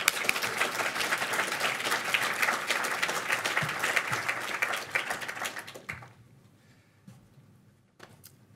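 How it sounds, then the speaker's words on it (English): Hearty applause from an audience at a hackathon launch event, dense and steady for about six seconds before tapering off into a few scattered claps and near silence. "give them a huge round of applause"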